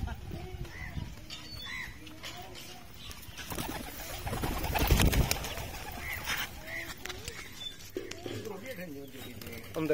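Pigeons in a village mud loft in South Punjab give soft intermittent coos and a brief burst of wing flapping, fairly faint against a murmuring background where people talk.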